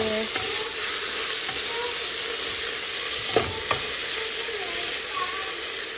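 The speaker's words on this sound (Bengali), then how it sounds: "মশলা কষানো হচ্ছে।" Spices stir-fried in a pan for a Bengali dish, a steady close sizzle with a few scraping stir strokes and light clinks.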